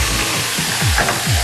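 Lamb fries in a wok being tossed, giving a loud continuous sizzle with rhythmic swishing sweeps of oil and meat as the pan is flipped.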